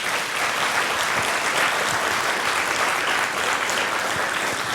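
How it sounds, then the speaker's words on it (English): An annual day audience gives the teachers a big round of applause: thick, even clapping from a large crowd, loud and continuous for several seconds with no speech over it. "give a big round of applause to all the teachers"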